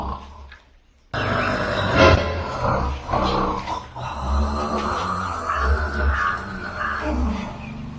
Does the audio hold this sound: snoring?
yes